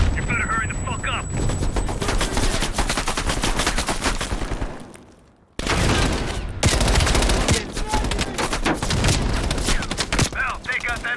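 Sustained rapid machine-gun bursts in Call of Duty Black Ops Cold War, loud and dense, dropping out briefly midway before resuming with overlapping shots and combat noise.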